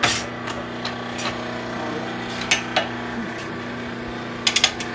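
A power hammer striking a hot knife blade during a bladesmithing demo, with a few sharp metallic blows spaced irregularly over steady machine hum, the last ones in a quick cluster.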